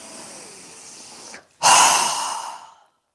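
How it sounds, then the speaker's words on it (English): A strong exhale through the mouth during a yoga breathing exercise: a soft, quiet breath first, a brief pause, then one forceful, close, breathy whoosh that fades out over about a second. "exhaling with a strong breath through our mouth"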